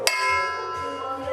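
A single bell strike rings out with a sharp metallic attack and a lingering ringing tone that slowly fades.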